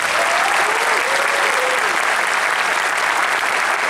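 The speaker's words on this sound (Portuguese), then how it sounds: "Uma salva de palmas para vocês." An audience at a taiko drumming festival claps loudly and evenly, a thick continuous wash of hands with faint voices and cheers mixed in, holding at full strength throughout.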